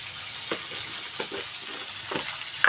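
Ghevda beans sizzle steadily in a hot pan while a spoon stirs them, giving a few soft scraping strokes over the continuous close frying hiss.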